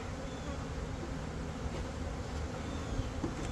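Carniolan honeybees swarm around an opened hive during an inspection, a dense continuous buzz close by with occasional individual bees droning past, no talking.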